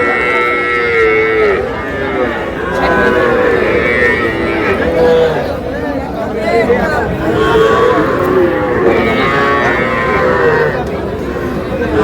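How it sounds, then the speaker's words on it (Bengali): Bull calves moo repeatedly at a busy cattle market, loud and overlapping, with steady crowd chatter and bargaining voices underneath throughout. "ষাঁড় বাচ্চা।"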